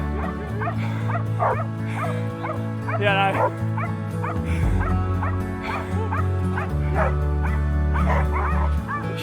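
Several hunting dogs bark, yip and whimper during a feral pig hunt in the New South Wales bush, with rapid repeated calls close by and someone speaking briefly.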